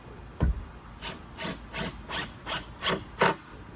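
A deck baluster is toenailed into wood, producing a run of seven rhythmic rasping, grinding bursts that come close and fairly loud, each about half a second apart, with no voices.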